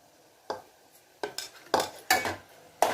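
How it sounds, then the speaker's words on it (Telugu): Ginger paste goes into ridge gourd curry in a pan, with about five sharp clinks and scrapes of a spoon against metal, close, separated by quiet pauses and a faint sizzle. "అందుకని అల్లం పేస్ట్ వేస్తున్నా"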